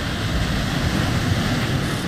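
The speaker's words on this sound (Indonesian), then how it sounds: "Ini soalnya ombaknya gede sekali." Big ocean waves crash and churn at a rocky fishing spot, a steady loud roar of surf mixed with wind buffeting the microphone throughout, with no voices.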